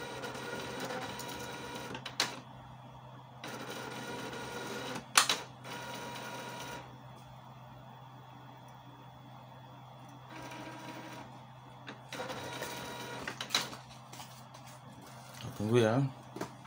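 An Epson L805 inkjet printer with a paper-feed fault runs a print job, giving steady mechanical whirring with repeated short clicks and feed bursts, fairly close, while a person talks intermittently over it.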